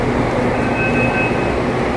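A Pune metro train waits at a station platform, giving off a loud, continuous, even rumble and hum for the whole stretch, with no voices.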